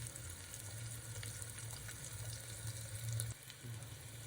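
Chopped onion fries in a pan until turning pink, a soft continuous sizzle with a faint low hum running underneath, quiet and undisturbed.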